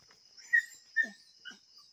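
A hunting dog at night on an armadillo chase gives three short, high whimpering yelps spaced about half a second apart, faint and isolated against a quiet background.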